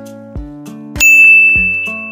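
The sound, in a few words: temple bell ringing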